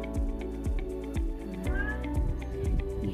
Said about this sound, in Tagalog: Iingay na ang aking pusa.